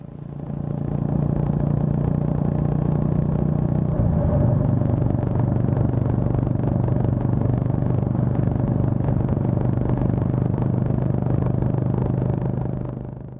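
Steady Honda GB350 motorcycle engine and exhaust drone while riding, a continuous low rumble with a slight pitch shift partway through, close and loud throughout.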